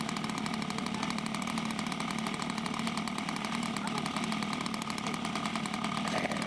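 A model floatplane's small engine drones steadily at a fly-in on water, a buzzing, even whine that holds throughout at moderate distance with no clear break.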